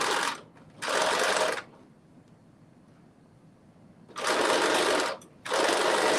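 A sewing machine stitches fabric ruffles in a sew-along: two bursts of loud, steady motor whirring close by, separated by a pause, then a longer run with a brief break.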